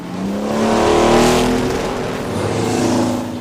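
Tractor-trailer big rigs race around a racetrack, a loud, close engine roar that rises and swells as a truck passes, with a steady droning pitch throughout.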